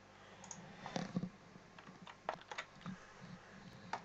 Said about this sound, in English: just right click on each of the other ones